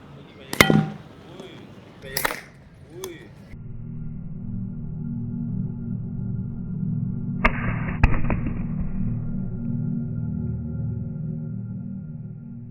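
A lighter struck by a slingshot shot bursts with a small, sharp bang, set among several short cracking impacts followed by a sustained low engine-like rumble, with a voice talking nearby.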